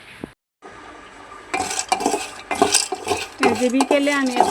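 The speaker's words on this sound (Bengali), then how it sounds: "মেয়ে বাদাম খাইব, বাদাম বাজতেছি" Peanuts are dry-roasted in a pan and stirred, giving rattling, clinking scrapes in uneven bursts, close and fairly loud. Someone talks over the stirring.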